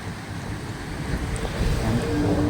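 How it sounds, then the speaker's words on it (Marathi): A loud, constant roar of rushing, falling water heard from a bridge fills the air, broad and unbroken, with a windy rumble underneath. "बघा कसं पाणी पडतं एकदम डेंजर पाणी पडतं"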